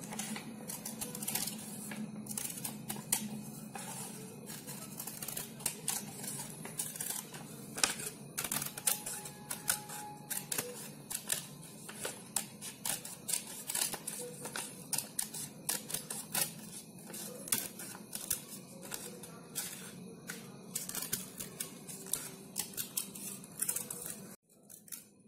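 Scissors cutting a paper circle inward into a spiral give a close, steady run of crisp, rapid snips and paper rustles. No one talks.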